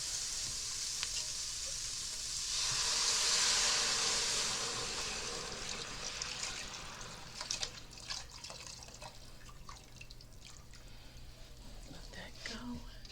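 Vegetable broth is poured into a hot soup pot, giving a broad hissing sizzle that swells for a few seconds and then settles into soft bubbling and scattered drips, close and moderately loud.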